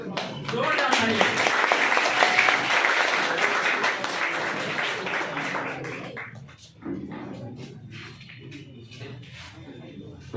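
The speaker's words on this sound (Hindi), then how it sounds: "जोरदार तालियां।" Loud audience applause fills a Republic Day poetry gathering (kavi sammelan), dense clapping with crowd murmur that swells, then thins and tapers after several seconds.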